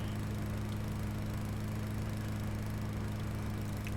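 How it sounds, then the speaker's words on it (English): Lawn mower cutting grass in a cemetery inside a farming-style video game, a steady, loud engine drone with constant low harmonic hum running unbroken throughout, no talking. "Let's mow the cemetery."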